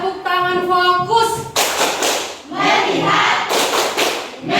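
Classroom students clap their hands in short, loud rhythmic bursts close by. The bursts are separated by a chanted voice at the start and brief pauses.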